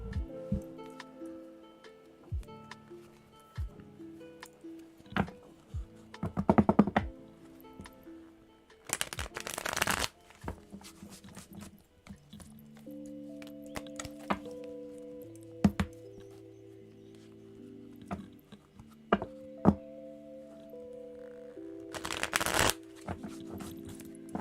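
Tarot cards being shuffled at a desk, with repeated dry riffling and soft tapping bursts close by, interspersed with sustained musical tones in the background; no speech.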